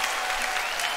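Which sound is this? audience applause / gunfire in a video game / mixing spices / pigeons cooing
audience applause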